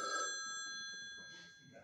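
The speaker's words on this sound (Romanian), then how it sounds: "Telefonul! A, telefonul!" A telephone rings onstage during a theatre play, a bright electronic ring held as a sustained tone that fades slightly over its length, with faint voices underneath.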